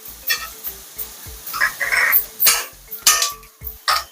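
A spoon scrapes and stirs a spiced crab mixture frying in a pan, with repeated clattering strokes against the metal over a steady sizzle, close and fairly loud with no talking.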